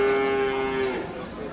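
A cow at a cattle market gives a single loud, close, drawn-out moo that trails off into faint market background noise.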